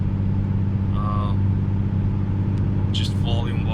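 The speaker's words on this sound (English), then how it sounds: "The car is louder, it's fucking louder." A Mustang 3.7 V6 fitted with a Borla ATAK exhaust, BBK shorty headers, H-pipe, cat delete and resonators cruises on the highway, heard from inside as a loud, steady low droning rumble with road noise throughout.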